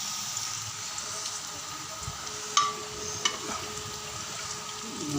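Fish curry with kalai dal cooks in a pan with a steady, fine frying sizzle, faint and continuous, with a couple of small knocks partway through and no voices.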